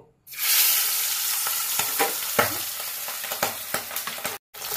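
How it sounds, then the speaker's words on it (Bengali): Pabda fish drops into hot oil with a sudden loud sizzle, followed by constant crackling and sharp pops, then a brief cutout near the end. "এবার আমি একে একে মাছগুলোকে ভেজে নেব।"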